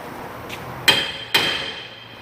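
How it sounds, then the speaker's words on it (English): A hammer taps on the rear hub of a Toyota Tacoma SR5 during hub repair. Two sharp, close metallic strikes land about half a second apart, each ringing briefly over a faint background. "you can tap on this with a hammer right here"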